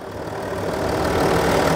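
A 3.0-liter Power Stroke diesel V6 in a 2018 Ford F-150 Lariat idles under an open hood, a steady broadband rumble with fine knocking texture that swells slightly louder as it runs, alone with no talk.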